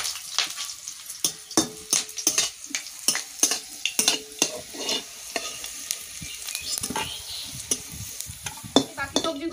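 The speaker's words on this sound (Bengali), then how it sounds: "বাকি সবজিগুলো ভেজে নেব।" Vegetables for a fish shukto, including drumsticks, fry in a pan, with repeated sharp scrapes and knocks of a spoon stirring through a soft background sizzle.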